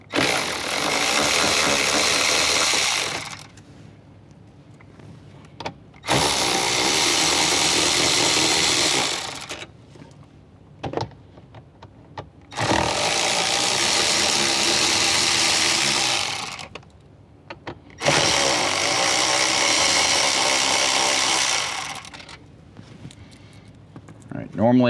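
A ratchet with an extension backs out 10mm bolts inside a Toyota 4Runner. Four loud whirring bursts of three to four seconds each are separated by quieter pauses.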